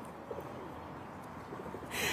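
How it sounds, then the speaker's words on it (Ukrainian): Pigeons coo softly in a city park in Kyiv in the morning, a few low rhythmic calls heard at moderate distance over steady outdoor ambience. "Голуби навколо тебе,"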